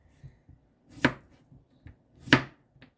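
A knife slices cucumber very thin on a cutting board, with two crisp, sharp cuts about a second apart amid softer taps, close and clear with no one talking.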